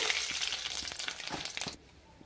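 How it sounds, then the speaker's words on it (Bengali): Nigella seeds sizzle in hot oil in a wok, a loud bright crackling hiss that runs for under two seconds and then drops away abruptly. "কড়াই গরম আছে, অল্প কালি জিরা দিয়ে দিব"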